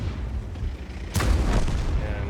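Heavy tank cannon fire in a tank video game, the Conqueror shooting: one loud, deep boom partway through, rising over an ongoing low rumble of engine and battle noise.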